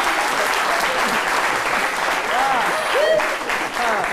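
A studio audience on a French midday TV show applauds students, with loud, continuous clapping and voices speaking over it.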